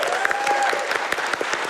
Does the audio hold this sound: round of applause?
yes